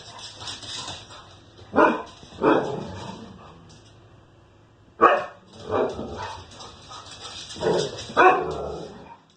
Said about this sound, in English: having two dogs can get pretty loud sometimes